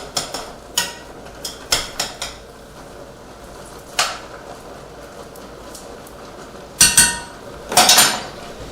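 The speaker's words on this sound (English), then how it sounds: "now I am going to give that one little stir" Cumin being stirred into carnitas in a pot: a few sharp metallic clinks and scrapes of a utensil against the pot, scattered and irregular, with louder clatter near the end over a quiet room.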